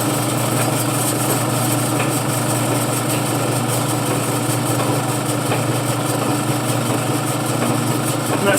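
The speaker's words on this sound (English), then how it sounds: "You know that it's actually pumping." A wringer washer's repaired drain pump runs with a steady, continuous motorized hum and whir, even and close, with no talking over it.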